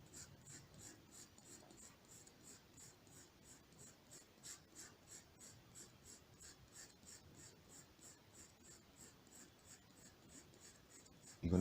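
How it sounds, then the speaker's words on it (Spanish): Hard H graphite pencil shading on paper, a faint rhythmic scratching of quick back-and-forth strokes that repeats steadily throughout, with a louder bump at the very end. "el tiro ya es otro roce del lápiz sobre la superficie, porque el lápiz, el H es más duro"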